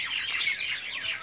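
A flock of birds calls around a village, bright chirps and squawks overlapping in a lively, unbroken chorus, moderately close and without any speech.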